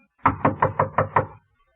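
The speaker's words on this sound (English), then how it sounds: "The door was locked, so I knocked." Six evenly spaced, firm knocks on a locked apartment door, close and loud, then silence.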